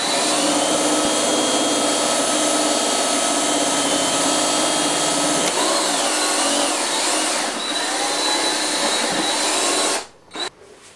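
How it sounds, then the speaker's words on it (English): A power drill bores steadily through plywood for about ten seconds, a loud, continuous whine that wavers in pitch partway through and then cuts off abruptly near the end, with no talking. "we should be able to cut through the plywood at the back"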